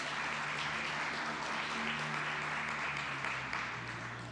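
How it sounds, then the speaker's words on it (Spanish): Steady congregation applause during a Spanish-language church service, a continuous wash of clapping with sustained musical tones underneath, tapering slightly at the end. "Denle una fuerte aplauso"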